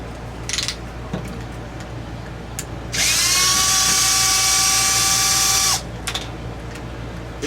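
A handheld power driver spins a bit while unscrewing screws from a damaged Arrma RC car. A loud, steady high whine lasts about three seconds, with brief shorter whirs and small clicks of handling before and after it.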